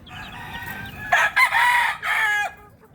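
A rooster crows loud and close in a backyard flock of chicks and hens, one long, strained crow broken into several bursts, with no talking.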